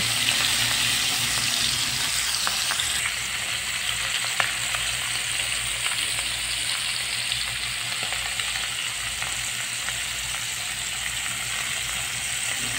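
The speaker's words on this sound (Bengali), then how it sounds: "এক এক করে আমি মাছগুলো ভেজে নিচ্ছি।" Marinated fish frying in hot oil in a frying pan, a steady, close, hissing sizzle that runs without a break, with faint clinks of utensils now and then.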